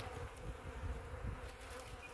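A dense, continuous buzzing of many honey bees around a hive during an inspection, close and steady, with a low drone that swells and fades slightly.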